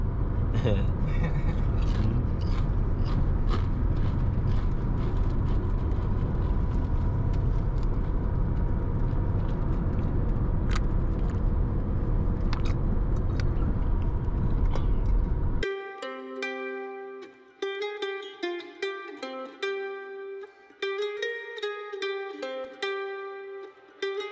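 Steady broadband road and engine rumble from a 2020 Jeep Renegade 2.4 cruising at 130 km/h on a highway between Dubai and Abu Dhabi, loud and continuous for about fifteen seconds before it cuts away to music.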